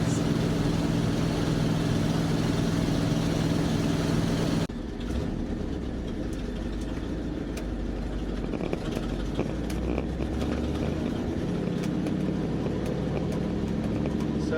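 A 1964 Dodge D300 truck engine runs without a muffler, giving a loud, rough, low rumble that holds steady and then shifts to a throatier, busier sound, with someone talking over it.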